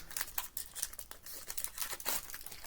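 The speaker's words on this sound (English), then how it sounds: "I almost feel like I should have like scissors or something to rip these open" Foil wrappers on 1992 Fleer Ultra baseball card packs being crinkled and torn open by hand, close and crisp, with repeated sharp tearing bursts and rustling throughout.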